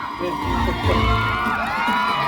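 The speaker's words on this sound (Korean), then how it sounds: "박수 한 번 주세요" A crowd cheers and applauds at the start of a World Obesity Day walking event in a riverside park. The noise is a loud, dense, steady roar of clapping and shouting voices, with some speech mixed in.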